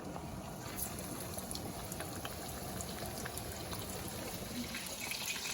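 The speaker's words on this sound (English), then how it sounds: "And now let's attempt to fry it" Breaded chicken for chicken parmesan fries in a pan with a steady, even crackling sizzle that holds at a low, constant level throughout, with no talking.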